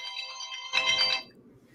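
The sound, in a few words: phone alarm ringing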